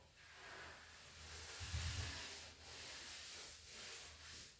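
A hand rubs slowly along a freshly sanded wooden floor, giving a soft, close, dry brushing hiss that swells and fades in a few strokes, quiet and alone.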